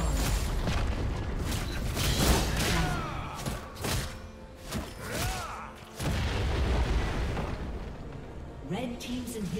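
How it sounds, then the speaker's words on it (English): Booming explosions and battle effects in a League of Legends match as a Red team inhibitor is destroyed, with several loud impacts and crashes separated by short dips and game announcer-style voice cues mixed in. "Red team's inhibitor has been destroyed."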